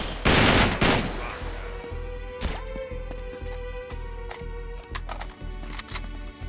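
Heavy gun fire in Uncharted 3, loud sharp blasts opening in a dense burst, then a steady rhythmic run of shots and clicks continuing to the end.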